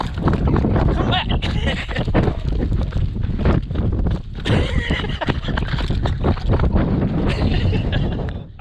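Strong wind buffets the microphone in Death Valley, producing loud, gusty roaring bursts that rise and fall throughout, with brief voices mixed into the noise.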